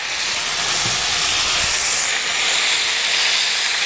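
Water poured into a hot wok of chicken pieces bursts into a loud, dense hiss of steam and sizzle that holds steady for several seconds, close and continuous, with no talking.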